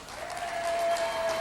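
Audience applause at a 1991 televised governor's debate in Baton Rouge, a steady wash of clapping from a crowd, moderately loud and continuous.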